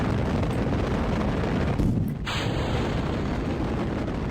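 Rocket engines in Kerbal Space Program, a loud steady roaring rumble that runs throughout with a brief dip and swell partway through.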